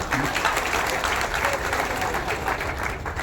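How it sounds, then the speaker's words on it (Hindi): A crowd at a campaign office event near a railway station claps to welcome candidate Sanjay Shirsat, a loud, continuous wash of applause with a low rumble of voices underneath. "सब लोग ताली बजा करके स्वागत करो एक बार और।"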